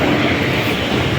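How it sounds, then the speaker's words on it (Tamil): A West Coast Superfast Express train arrives at an Indian station, a loud, steady broadband rumble close by with no distinct clicks or horn. "நம்மளோட ட்ரெயின் வருதுங்க."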